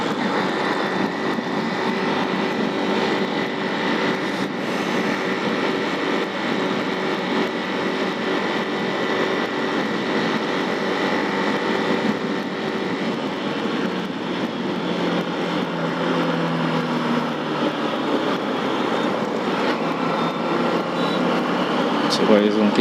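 A vehicle engine drones steadily on the road, a continuous loud mechanical roar that holds for over twenty seconds with little change.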